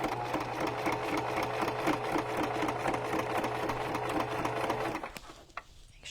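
A sewing machine stitches ribbon onto a junk journal cover, its motor running in a steady, close, rhythmic whir for about five seconds before stopping, followed by a few faint handling clicks.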